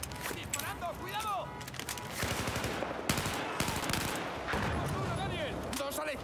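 Gunfire in the video game Battlefield 4, bursts of rapid automatic shots and single cracks in a busy firefight, with shouted voices calling over the shooting.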